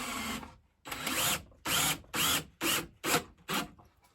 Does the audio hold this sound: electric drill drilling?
yes